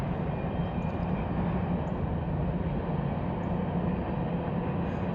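A freight train rolls along the old B&O line, a steady, continuous low rumble and roar of wheels and cars passing at a moderate distance with no breaks or voices.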